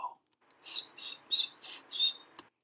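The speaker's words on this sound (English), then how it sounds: "Tree swallow." Tree swallow calling alone: after a brief lower note, five clear, bright chirps in a fairly even rhythm, close and moderately loud, with a faint click at the end.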